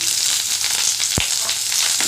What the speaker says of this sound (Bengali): তেল গরম হয়ে গিয়েছে, আমি পেঁয়াজগুলো সব দিয়ে দিলাম। পেঁয়াজ কাঁচা লঙ্কা একসাথে দিয়ে দিলাম।